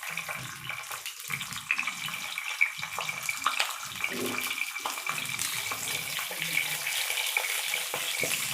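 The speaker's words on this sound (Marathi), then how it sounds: "पहिले आपण फ्राय करून घेऊ." Capsicum frying in a pan for a stuffed-pepper style dish, giving a steady broadband sizzle with scattered crackles and spatters, close and continuous throughout with no talk.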